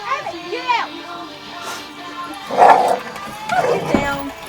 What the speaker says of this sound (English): It's my killer pit bull.